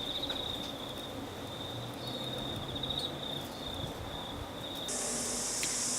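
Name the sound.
cricket chirping at midnight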